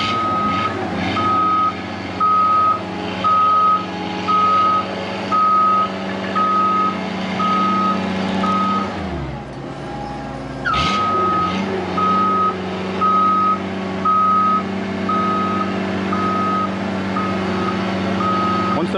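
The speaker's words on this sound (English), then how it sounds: "the alarm was going off because it's sensing that the machine's out of level" A man lift's tilt alarm, set off because the machine is out of level, beeps in regular repeating pulses over a running engine, stops briefly partway through, then resumes its steady beeping.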